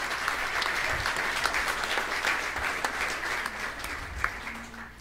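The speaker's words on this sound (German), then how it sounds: "bitte einen Applaus." Audience applause at a public meeting about a railway line, a dense crowd clapping steadily for several seconds with a few sharper individual claps and faint murmuring beneath.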